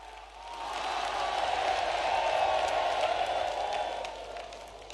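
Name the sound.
crowd applauding loudly to welcome the prime minister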